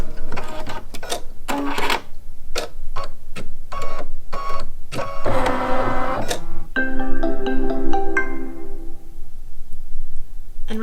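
An embroidery machine sews a satin stitch border on a mug rug in a rapid, loud mechanical clatter, broken by short clicks and pauses, with a brief whirring tonal stretch in the middle. No one speaks.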